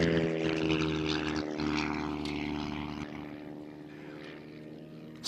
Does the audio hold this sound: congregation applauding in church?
no